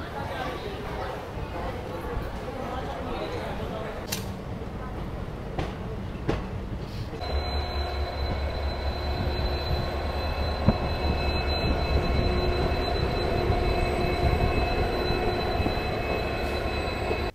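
Shramjeevi Express with ICF sleeper coaches stands halted at Ghaziabad Junction railway station, giving a steady train rumble and station noise that settle into a constant mechanical hum, with people talking throughout.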